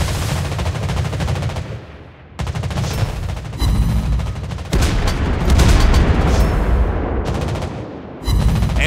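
Rapid bursts of anti-aircraft gunfire from a Pensacola cruiser, a Tier 6 US warship in World of Warships Blitz, rattle loudly and almost continuously, broken by a few short pauses between volleys.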